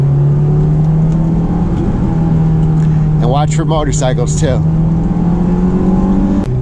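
A Honda S2000 sports car drives a mountain road, its engine holding a steady, loud drone throughout while someone talks briefly over it midway.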